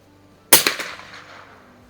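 An 1896 Schmidt Rubin .22 short target rifle with a Riton scope fires once outdoors, a single sharp crack followed by a short fading echo.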